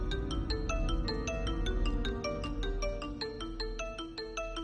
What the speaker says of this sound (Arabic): موبايل كنتنا بيضلوا بيرن